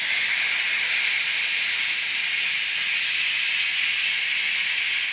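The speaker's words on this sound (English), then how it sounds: "take a backside of a spoon or something and release the pressure. There we go. Let's just let that pressure off. It's going to get loud" Loud, steady steam hiss rushes from a Ninja Foodi pressure cooker as its pressure is released after cooking barbecue chicken thighs, a constant close blast without pause.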